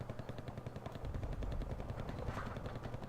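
Rapid machine-gun fire rattles nonstop in a real-time strategy game as vehicles drive past and take heavy fire, a loud, dense volley with no pauses.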